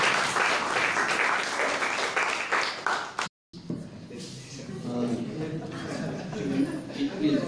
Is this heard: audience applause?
yes